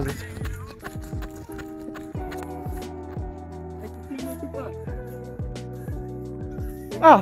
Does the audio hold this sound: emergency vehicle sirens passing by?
no